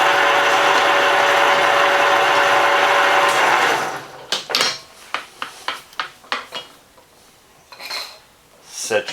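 A Kearney & Trecker milling machine with a broken knee runs with a loud whirring drone, then stops and gives way to a string of sharp metallic clunks and clicks as its gears are shifted to low speed and reverse.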